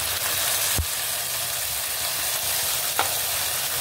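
Onion fries in a pan for biryani, a soft continuous sizzle with two sharp knocks of a spoon as it is stirred.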